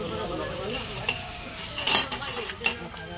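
Glasses clink together in a cheers toast during a Tihar festival gathering, with a couple of sharp chimes over low murmuring voices and background room noise.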